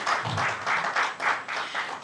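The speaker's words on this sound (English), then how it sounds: "A round of applause for her, please." Audience applause at a product launch event in Nigeria, for a gynecologist just introduced on stage; a steady wash of clapping with slight swells, moderately loud and indoors, with no voices over it.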